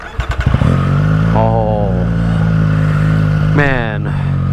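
A Triumph Street Triple RS fitted with a LeoVince aftermarket exhaust cranks and starts, then settles into a loud, deep idle with two sharp revs. A person briefly exclaims close by.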